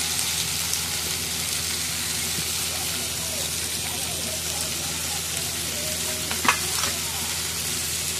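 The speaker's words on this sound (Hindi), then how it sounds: "इसको डाल के जब तक हम सॉटे कर रहे हैं" Ginger and green chilies sautéing in a pan for kadai paneer, a steady soft sizzle and crackle running throughout with a brief louder clatter near the end, faint talk in the background.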